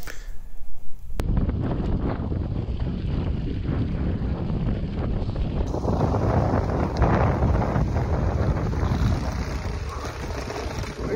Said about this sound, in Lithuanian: Labai vėjuota.